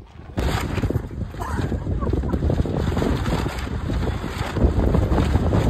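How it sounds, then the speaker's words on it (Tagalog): Strong wind roars and buffets the microphone in a loud, steady rush that starts abruptly and keeps going without a break. "Lakas ng hangin."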